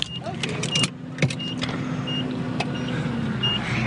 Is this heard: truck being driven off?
yes